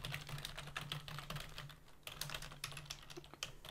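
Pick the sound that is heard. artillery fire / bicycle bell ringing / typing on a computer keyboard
typing on a computer keyboard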